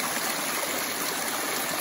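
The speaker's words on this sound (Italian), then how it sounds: "Qui l'acqua viene fuori abbondante e lì già sparisce nel reticolo sotterraneo." A mountain stream in the Dolomites gushes out abundantly from the rock, a steady, close, full rush of flowing water with no pauses.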